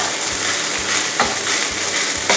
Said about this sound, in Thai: ข้าวค้างคืนเนี่ยมาผัดได้นะครับเพื่อเป็นการอุ่นรอบสองเนาะ